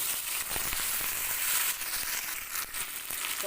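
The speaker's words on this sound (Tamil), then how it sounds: "இப்போ கடுகு பொறிஞ்சிருச்சு கருவேப்பிலையும் வரமாவும் போட்டுக்கலாம்" Mustard seeds, curry leaves and dried red chillies sizzle and crackle in hot oil as a tempering for a Tamil snake gourd kootu, a steady close frying hiss with small pops throughout, no talking.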